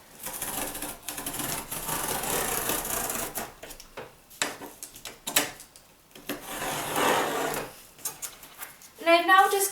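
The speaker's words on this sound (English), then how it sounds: "So I just have my straight edge here and I'm just going to cut along it." A craft knife drawn along a straight edge slices a cardboard sheet into strips for a woven rabbit toy mat, with bursts of scraping and tearing texture close by, pauses between strokes and brief handling clatter.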